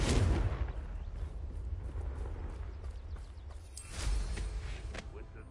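A Confringo fire spell bursts in Hogwarts Legacy with a booming explosive blast at the start and a second muffled impact near the end, set against a low rumble.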